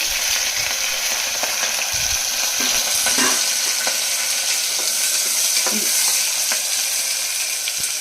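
Onions, green chillies and curry leaves frying in hot oil for a country chicken keema: a loud, steady, close hiss of sizzling with occasional clinks and scrapes of a stirring spoon.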